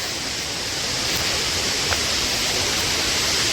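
Tirathgarh waterfall in a Chhattisgarh forest gives off a loud, constant roar of falling water, a dense unbroken rush heard from nearby with no voices over it.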